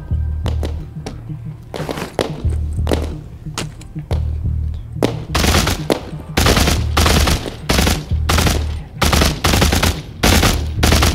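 Loud, repeated bursts of gunfire from the Walking Dead VR game, with irregular single shots early giving way to rapid volleys alongside a steady low thumping backdrop.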